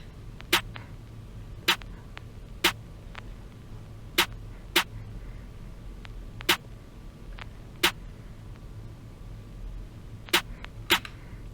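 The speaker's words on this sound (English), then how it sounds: "I just added a weak snare from the Medenka drum kit from Loop Stash." A soft snare sample from the Medenka drum kit plays alongside a clap in a programmed beat, giving sparse, sharp percussive hits in an uneven pattern over a faint low hum, with no talking.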